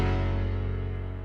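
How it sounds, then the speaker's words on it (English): A grand piano ballad preset from the Nexus synth, processed with OTT compression and EQ, sounds a single sustained, rich chord that rings loud and alone, slowly fading. "So we got this one from Nexus,"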